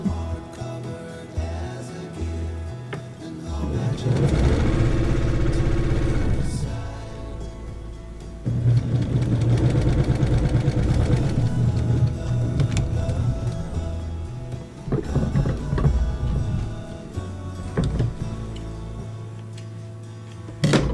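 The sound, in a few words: sewing machine stitching a quilt seam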